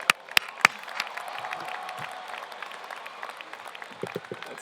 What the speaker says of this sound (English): Can you guys give yourselves a round of applause